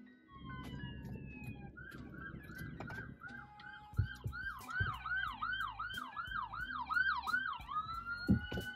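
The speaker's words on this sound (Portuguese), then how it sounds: "sempre que tem uma sirene ligada" An emergency vehicle siren wails through a town centre, rising and falling in a rapid repeating cycle that grows louder over street noise and a few thumps, without speech.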